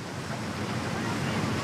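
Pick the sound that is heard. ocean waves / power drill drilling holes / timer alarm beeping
ocean waves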